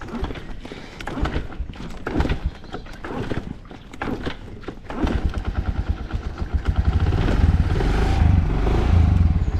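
A Honda Solo motorcycle engine cranks with uneven sputtering bursts, then catches and settles into a steady, close, rumbling idle with no talk.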